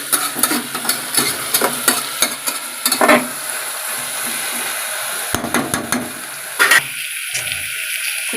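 A spoon scrapes and stirs food frying in a pan during home cooking of a dal-and-drumstick stew, with irregular clatters and strokes over a steady sizzle and occasional watery hiss, close and fairly loud, no voices.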